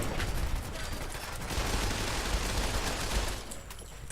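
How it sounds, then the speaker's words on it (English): Fallout 4 Assault Carbine mod firing at a very high rate, a loud, unbroken stream of overlapping gunshots that runs almost the whole time before easing off near the end. "So this weapon is shooting very fast"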